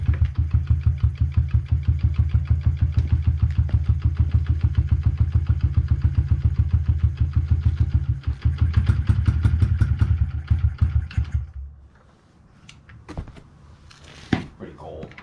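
A Honda CRF50F small motorcycle kick-started in cold weather around 38 degrees settles into a steady, rapid idle putter close by, then the engine cuts out, leaving a few scattered knocks and handling noises.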